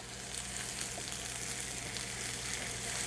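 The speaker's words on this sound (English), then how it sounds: "let's stir these around a little bit and break them up" Shiitake mushrooms fry in a pan, giving a steady, dense sizzle that stays even throughout, with faint stirring underneath and no voices.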